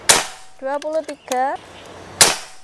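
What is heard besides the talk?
PCP air rifle shots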